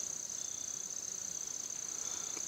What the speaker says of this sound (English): Can you hear all those bees buzzing behind me on these dahlias?